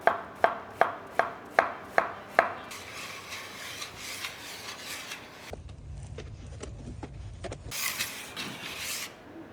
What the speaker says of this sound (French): L'oignon qui n'est pas dans la recette initiale, quelque chose que je décide d'ajouter. On va le ciseler.